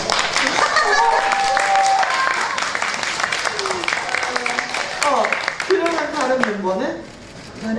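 Steady applause from the audience at a K-pop fan meeting fills the whole stretch, with voices and laughter mixed in, fading somewhat near the end.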